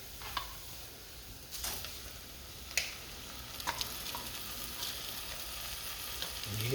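Rice hitting a hot pan with garlic already browned, a light steady sizzle with a few sharp crackles and pops, close and fairly quiet, no talking.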